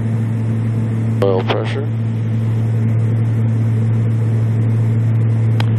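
A turboprop aircraft's left engine starts up in a cockpit, a steady loud low drone with a rising whine burst early on, while a crew voice speaks briefly over it.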